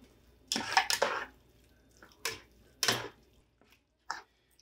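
Pork leg meat being dropped into a cooking pot for marinating gives a few short, fairly loud clattering bursts separated by brief quiet gaps, with no talking.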